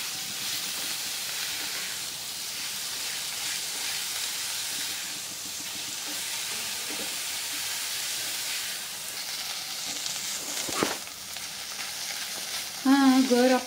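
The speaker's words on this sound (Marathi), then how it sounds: "किसलेला दुधी भोपळा घालूया आणि परतून घेऊया।" Grated bottle gourd sautéing in ghee in a pan for kheer gives a steady, close frying sizzle and hiss throughout, with a brief stirring clatter near the end.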